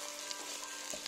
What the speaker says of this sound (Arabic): حط الطماطم تاعي تتقلى مدة 5 دقائق على الأقل